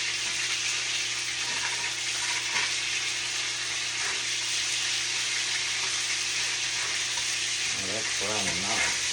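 Ground meat browning in a pan for Asian-style cabbage taco wraps, a steady soft sizzle throughout, with a voice speaking briefly near the end.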